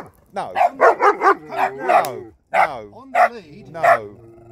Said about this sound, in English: He's got a beautiful bark.